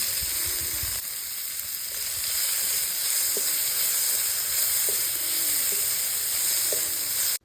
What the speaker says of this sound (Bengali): মাছ ভাজা তেলে চেরা লঙ্কা 5 ফোড়ন দিয়ে একটু নেড়ে চেড়ে দিয়ে দেব থেতো করা রসুন